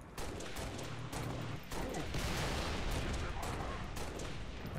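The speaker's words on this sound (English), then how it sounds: "I want to shoot your helmet off, sir." Rapid gunfire in Halo: Reach, a dense, sustained burst of shots that stays loud for nearly five seconds without pause, with faint talk mixed underneath.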